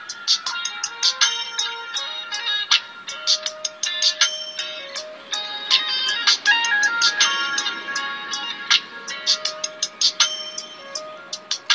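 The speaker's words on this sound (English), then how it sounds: "My ringtone sounds very cool, so guess she'll be calling me in a few seconds." A cell phone ringtone plays a bright, bell-like electronic melody with rapid chiming notes over sustained tones, loud and steady for about twelve seconds before the call is answered, no voices.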